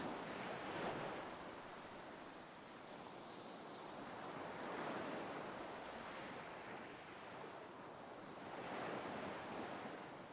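Ocean waves roll in and break on a shore in slow surges about every four seconds, a steady broadband wash with some wind rumble, continuous and fairly close with no voices.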